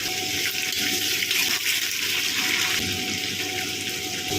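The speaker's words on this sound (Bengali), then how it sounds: "আলুটা দিয়ে প্রথমে ভেজে নিচ্ছি।" Sliced potatoes fry in hot mustard oil with cumin and bay leaf in a wok, a steady, dense sizzling hiss that stays close and constant throughout with no voices.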